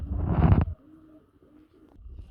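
Pigeons of the rasgolla breed coo once in a short, fairly loud burst close by, followed by faint low murmuring and quiet background sounds.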